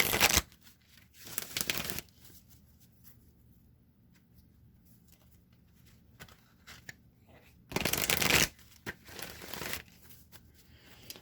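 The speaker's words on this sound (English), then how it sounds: "One more shuffle." Oracle cards being shuffled in short bursts, two quick rounds at the start and two more later, with quiet handling in between.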